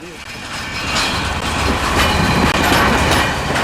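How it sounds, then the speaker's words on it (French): A freight train loaded with crates of coins rolls along the rails, a loud continuous rumble and clatter of wagons passing close by. "À chaque étape, le train largue 2 wagons pour les principales banques du département"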